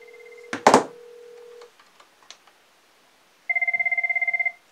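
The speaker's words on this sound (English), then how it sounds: "I'm going to call up the extension of the phone, which is 2001." A Cisco IP Phone 7942 rings for an incoming call: after a brief tone, clatter and a few soft clicks, a loud, rapid electronic trill sounds continuously for about a second near the end.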